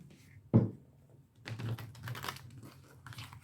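Oracle cards being shuffled by hand: one sharp tap, then a second and a half of fairly quiet, dense riffling and rustling of the deck, close to the mic, with no talk.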